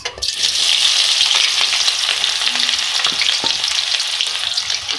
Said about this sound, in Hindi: सबसे पहले मैंने ऑयल लिया है और उसमें ऐड करूँगी 2 मीडियम साइज़ की प्याज।